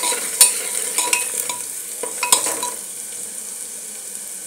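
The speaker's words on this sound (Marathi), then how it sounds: "आता व्यवस्थित मिश्रण एकजीव करून घेते मी।" Spices such as black pepper powder and garam masala being stirred into a pulao mixture in a pan, with a steady soft sizzle and a few clear scrapes and knocks of the spoon against the pan.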